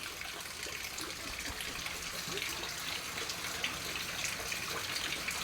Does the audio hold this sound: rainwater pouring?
yes